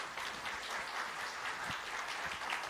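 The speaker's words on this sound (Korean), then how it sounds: "우리 다 함께 박수하시겠습니다" Steady applause fills a church service as a congregation claps together before a pastor's sermon, dense and continuous throughout with no voices over it.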